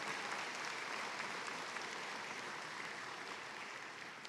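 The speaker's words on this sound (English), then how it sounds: "Please join me in a round of applause for these very dedicated individuals." Steady applause from an audience at a fall morning ceremony, a dense, even wash of clapping, somewhat distant and faint, tapering slightly toward the end.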